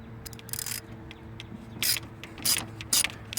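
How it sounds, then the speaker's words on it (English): A 3/8 inch drive ratchet with extensions and a 10mm socket clicks in short, rhythmic bursts while loosening a tensioner bolt on a 1996 Honda Accord V6, close and fairly quiet over a low hum. "take your 3/8" drive ratchet with a couple 6" extensions and your 10mm socket"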